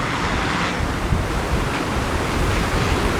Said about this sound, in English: And this wind is weird.